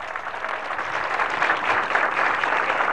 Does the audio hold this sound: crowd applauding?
yes